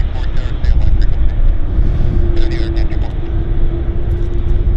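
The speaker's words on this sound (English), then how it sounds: "fast braking action there on this particular aircraft" Aircraft landing with hard braking at Vancouver airport: loud, steady low-pitched roar of engines and rushing air, with a sustained tonal hum emerging midway, heard from a distance throughout.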